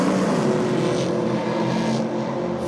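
A small-block Chevy Nova drag car launches down the strip at a NSW championship drag meet, its engine a loud, continuous, dense roar held throughout.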